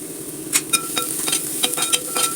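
Onions sautéed with salt and curry leaves in a pan, steady light sizzling with sharp metallic spatula clinks and scrapes in quick succession.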